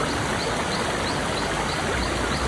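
A waterfall along a road in Munnar, Kerala, pours in a loud, steady, unbroken rush of white noise that fills the whole clip with no voices.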